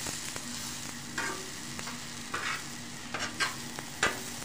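Eggplant frying on low heat for a yogurt-based masala dish, with soft, steady sizzling under a few sharp utensil scrapes and clicks as the pieces are stirred and turned.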